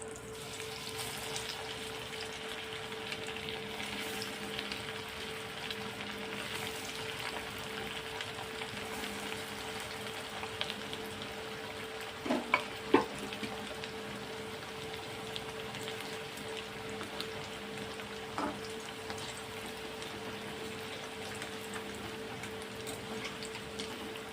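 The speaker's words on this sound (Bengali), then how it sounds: "এখানে আমি লো গ্যাসে ভাজবো" Chicken cutlets frying gently in oil over a low gas flame, giving a steady soft sizzle throughout with a few brief louder crackles and pops partway through.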